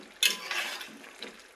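Chicken and snake gourd curry being stirred in a pan, a spoon clanking against the metal then scraping and shuffling the wet pieces, close and fairly quiet, one clear knock followed by softer stirring.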